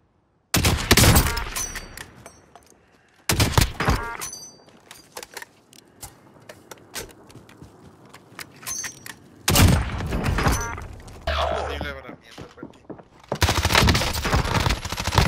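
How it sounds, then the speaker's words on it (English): Bursts of automatic gunfire in Call of Duty: Warzone, rapid loud volleys that stop and start with quieter gaps of distant game sounds and rumble in between. "Taking fire over here."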